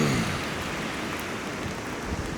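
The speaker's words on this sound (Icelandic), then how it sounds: "Það sem núna það er að koma rigningadrópar" Rain and wet sleet pour down steadily during an April snowstorm in Selfoss, Iceland, a dense, continuous patter that is moderately loud with no voices.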